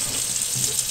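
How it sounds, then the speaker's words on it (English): Water runs from a tap and splashes into an ice cube tray, a steady hissing, spattering stream at close range with no voices. "Water splashes out, and that's how they fill up the ice cube tray."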